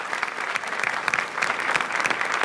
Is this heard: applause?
yes